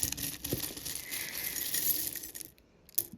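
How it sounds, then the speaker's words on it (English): Vintage buttons clink and rustle as fingers run through them: close, light clicking and patters that cluster and then thin out near the end. "the sound they made as I ran my fingers through them, a gentle clinking and rustling"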